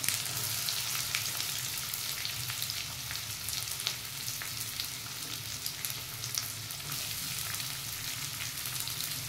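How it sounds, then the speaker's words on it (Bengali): Chopped onion hitting hot oil in a wok for a homemade chicken roll filling, giving a continuous bright crackling sizzle with faint scattered pops throughout, no one talking. "এখন আমার তেলটা গরম হয়ে গেছে, তো আমি পেঁয়াজটা দিয়ে দেব।"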